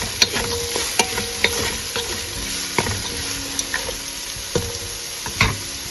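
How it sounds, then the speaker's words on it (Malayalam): Onions sautéing with half a spoon of salt in a pan for a Kerala-style beef roast, a soft continuous sizzle broken by regular sharp scrapes and taps of a spoon stirring, close up with no voices. "ഇനിയും ഈ സവോള എല്ലാം കൂടെ ഒന്ന് വഴലാൻ വേണ്ടി 1/2 സ്പൂണ് ഉപ്പ് ചേർത്ത് കൊടുത്തത്."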